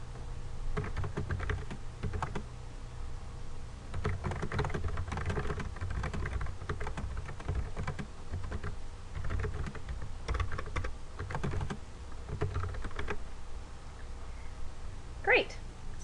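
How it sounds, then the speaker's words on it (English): Quiet, irregular clicking of a computer keyboard as someone types an introduction for a website, the soft keystrokes coming in uneven bursts throughout. "Left-click so you see your cursor blinking, and now you can type an introduction to your website."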